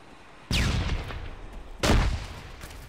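Two sharp, booming blasts in the military game ArmA 3, a frag grenade explosion and gunfire, each hitting loud and close with a ringing, decaying tail, about a second and a half apart.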